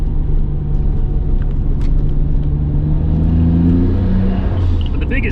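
A Nissan Skyline GTR with an HKS airflow adapter and Ohlins DFV suspension heard from inside while cornering, a loud, steady engine drone and road rumble that rises slightly in pitch as it works through the bend.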